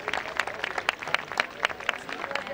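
Volunteers' award ceremony audience clapping steadily, a dense crowd applause with sharp individual claps popping out in an even, continuous wash, moderately near and with no talk over it.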